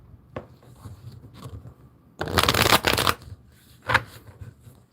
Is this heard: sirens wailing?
no